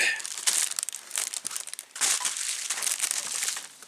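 Close plastic crinkling and rustling, irregular bursts of crackle as the bag holding a new whittling kit is handled and pulled open, with no talking.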